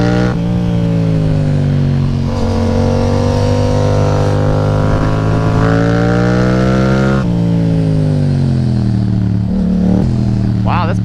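A Yamaha FZ-07 motorcycle engine revs loud and close, its pitch rising and falling through several swells over a steady, throaty drone.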